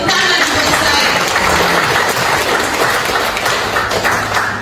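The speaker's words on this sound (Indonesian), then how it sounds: "Tepuk tangan." Loud, continuous applause rises from a gathered crowd at a reflection and evaluation session at SMAN 1 Kupang school, a dense steady clatter of many hands with some tapping and thumps underneath.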